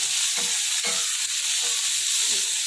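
Chilies soaked in curd sauté in a small amount of oil, a steady bright hiss with a few soft stirring thumps, close and even, no voices.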